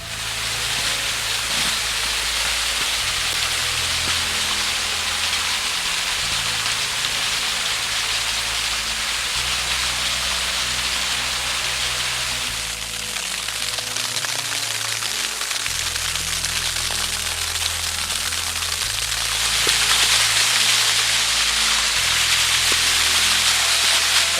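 The largest drop of a waterfall in Parque da Cachoeira roars as a dense, unbroken rushing hiss, loud and close, swelling slightly near the end.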